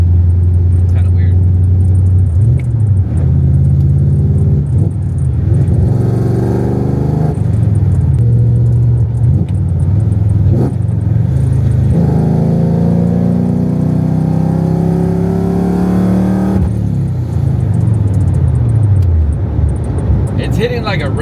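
A Ford Coyote-swapped car engine idles and is eased at very light throttle, stumbling and hesitating as if misfiring, with its loud, close rumble rising and dipping in uneven surges.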